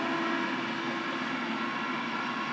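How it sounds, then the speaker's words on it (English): Passing train heard outdoors, a loud continuous rumbling roar with a steady droning tone and no breaks. "It's his first time seeing a train."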